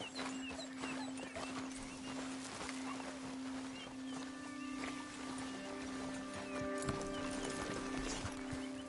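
Horse hooves clip-clop steadily at a gallop through the Red Dead Redemption 2 game world, with a brief whinny, a sustained low tonal drone and scattered ambient game sounds underneath.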